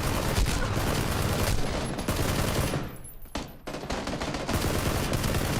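Sustained rapid gunfire in the battle royale video game PUBG, dense bursts and volleys close up and loud throughout, briefly easing near the middle before resuming.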